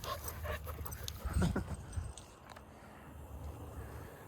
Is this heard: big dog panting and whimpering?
yes